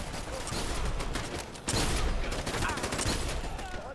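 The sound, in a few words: gunshots in the video game Dirty Bomb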